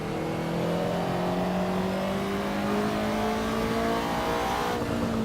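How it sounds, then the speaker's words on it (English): Ferrari 288 GTO in Assetto Corsa, its engine note climbing steadily and loudly through the revs, with a brief dip near the end as a gear change lands; the engine runs alone without talk. "Short shifting up to second gear."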